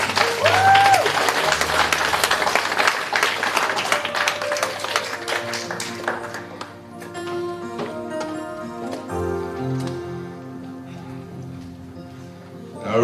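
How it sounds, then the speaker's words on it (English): A church congregation at a revival service in Auckland claps for the worship team; loud scattered clapping opens, then thins out beneath sustained music tones and a faint voice. "Let's give a clap for our worship."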